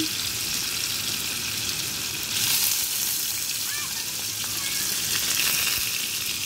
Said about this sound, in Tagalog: Ako'y nagpiprito ng tokwa habang naglilisa